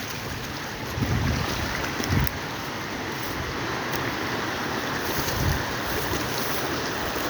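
Water rushes steadily along a main river channel with gravel banks, a continuous broadband wash with wind buffeting the microphone in a few brief low thumps.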